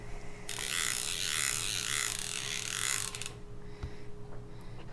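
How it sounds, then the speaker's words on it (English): A fly reel clicks in a fast, steady buzz as new fly line is wound onto it over backing. The rattle is loud and close for about three seconds, then drops away to a quiet background hum. "I'm going to spool the line up now."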